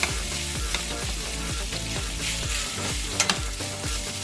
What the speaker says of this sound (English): To a nice hot pan, I added some olive oil, and put the pork in here. I'm just going to mix it and sear it,